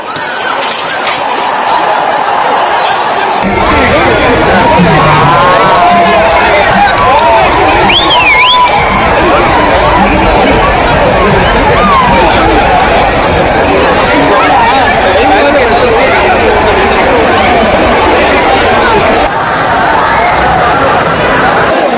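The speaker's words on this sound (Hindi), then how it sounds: "पुलिस लाठी चला रही, लोगों को खदेड़ रही है। देखिए, लाठी पुलिस ने और भगदड़ मची है।" Outside a stadium, a large crowd scatters in a stampede as police charge with batons, a loud, dense roar of running feet, shouting and agitated chatter that continues unbroken throughout.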